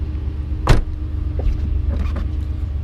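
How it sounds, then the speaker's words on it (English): Car power windows on a salvage-auction vehicle, a short whirring motor hum with a sharp clunk near the start and quieter mechanical sounds after it, close by with no talk. "See this the windows? This one, they both roll down."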